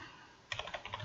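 Brief burst of typing on a computer keyboard: about half a second of quick, close, soft key clicks after a moment of near silence.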